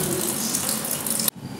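Water running steadily from a tap for washing clothes at home, a close, constant splashing stream that stops abruptly at the end.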